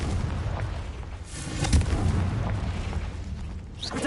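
A Confringo explosion spell cast in a Harry Potter video game, heard as a deep rumbling blast with a sharp burst near the middle, followed by a lingering low roar and a brief crackle at the end.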